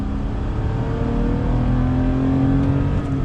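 A 2020 Toyota Tacoma TRD truck with a 6-speed manual accelerates hard on the highway, its engine a steady loud roar throughout, with no clear tire chirp standing out.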